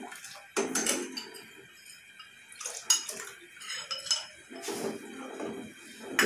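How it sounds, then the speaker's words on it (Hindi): Spoon clinking and scraping against a metal pot or bowl while custard powder is stirred into cold milk, irregular clattering strokes, fairly quiet and close, with no talk. "ये पाउडर को ठंडे दूध में मिक्स कर लें, थोड़ा थोड़ा डाल के इसको हिलाते जाएं।"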